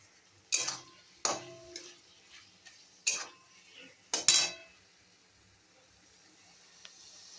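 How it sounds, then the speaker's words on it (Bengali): Boiled soybean chunks being stir-fried with spices in a pan, heard as a few sharp clinks and scrapes of a spatula against the metal, spaced irregularly over quiet background with a faint sizzle. "এবারে সয়াবিনটাও কষে গেছে, ভাজা ভাজাও হয়ে গেছে।"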